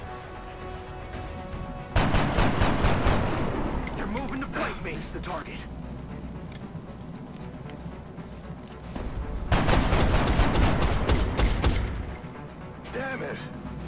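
XCOM gunfire comes in two loud, rapid bursts of shots several seconds apart, with voices talking between and over them.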